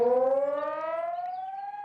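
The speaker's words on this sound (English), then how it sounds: "That's the sound of the new sirens installed to warn residents of Čeľinac of possible flooding." A new flood warning siren in Čeľinac, Bosnia and Herzegovina, wails with a steady, slowly rising electronic tone, loud and alone with no voices.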